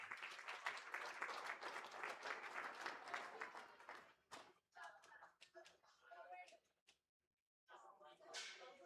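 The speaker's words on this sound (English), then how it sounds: "Give them all a good round of applause" Applause from a crowd at a state fair goat show ring for market and breeding goat exhibitors, fairly close and steady before thinning out into scattered claps and brief murmurs, with a short silent gap near the end.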